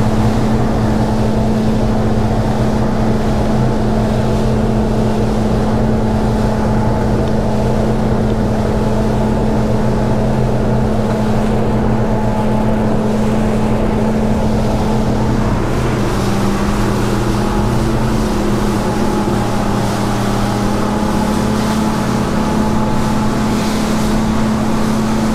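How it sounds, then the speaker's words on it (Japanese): An SR25 flybridge cruiser runs at a steady 4200 rpm cruise of about 21 knots, its engine a constant deep drone under wind rush and water noise, close and loud throughout. "だいたい巡航速度4200の回転数で、速力が21ノットぐらい"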